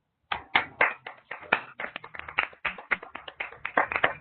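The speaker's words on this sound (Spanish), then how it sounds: "un fuerte aplauso para Mayra." A small audience at a morning session of academic presentations claps for Mayra after a brief silence, a sparse, close run of distinct handclaps with an uneven rhythm that stays light and thin.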